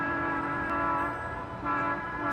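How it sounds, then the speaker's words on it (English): Stock footage of a train passing while its horn sounds in sustained blasts, a brief break, then the horn again, fairly quiet and with no talk. "Oh no, I hope I don't get hit by the train."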